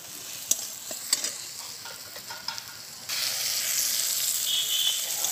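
Onion and garlic paste sizzling and frying in a pan as it is stirred, with a few sharp scrapes of the spoon, then the frying hiss grows louder and steadier, close and continuous.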